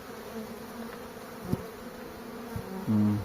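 Steady low buzzing from honeybees hovering nearby at a hive, a continuous drone with a few brief louder passes and a closer hum near the end.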